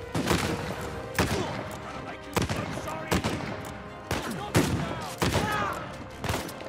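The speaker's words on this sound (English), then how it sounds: "Who's shooting at me?" Rapid bursts of gunfire in the video game Uncharted 4, during the New Devon chapter, crack out in a steady series of sharp, loud shots with echoing tails, spaced about a second apart and mixed with other game sounds.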